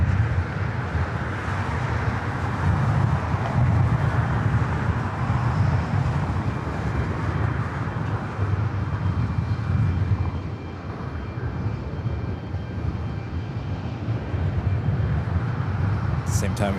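A KLM heavy jet takes off from runway 24 left at Los Angeles International Airport, producing a broad, continuous engine roar with wind buffeting on the microphone, steady and fairly loud throughout.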